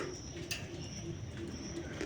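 A pair of diamond doves in a small bird-farm enclosure give soft, low, repeated coos, faint against a steady background hiss.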